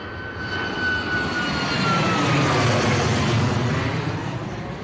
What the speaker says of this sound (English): Mate, this Ryanair is loud.